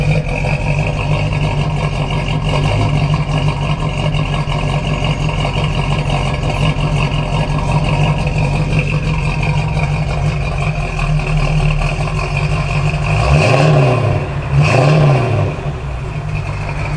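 A 1965 Buick Riviera engine idles with a loud, steady low rumble, then revs twice in quick succession near the end before settling back to idle.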